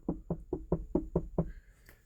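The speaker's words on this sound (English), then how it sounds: "You hear a knock at your door." Seven firm knocks on a door in an even, quick rhythm, close and clear, followed by quiet room sound.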